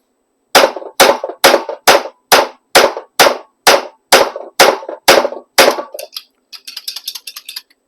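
A Lee bullet puller is struck against a hard surface about eleven times, each blow a sharp, loud knock in a steady rhythm. A few lighter clicks and rattles follow.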